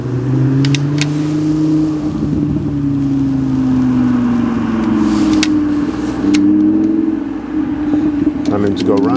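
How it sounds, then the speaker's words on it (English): Audi R8 supercar on the Curborough sprint course, its engine loud and close with a sustained droning note that rises and falls as it revs and pulls away, with brief clicks and knocks on top. "Audi R8's back out."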